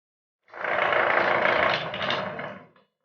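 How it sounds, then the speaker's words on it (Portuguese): An automatic gate motor with electronic braking runs with a loud, even mechanical whir, then eases to a soft stop as it slows the gate, the sound tapering off over about two seconds. "Percebam essa parada mais suave no motor, na qual ele vai desacelerando o portão."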